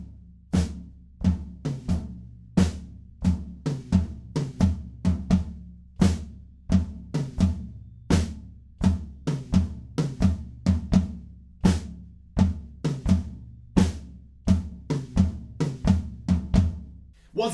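A drum kit pounds out a driving, steady beat with heavy tom and snare hits in a repeating pattern, loud and close with no talking.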